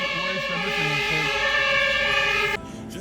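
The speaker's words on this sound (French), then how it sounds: "C'est les pompiers." A fire brigade siren in a street in central Basel near the cathedral, its wailing two-tone pitch loud and close, sweeping up and down before cutting off abruptly near the end, with faint street ambience remaining.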